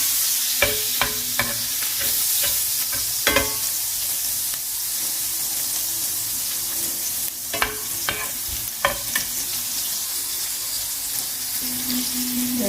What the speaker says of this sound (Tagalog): I'm gonna fry first the onion into the butter and the oil together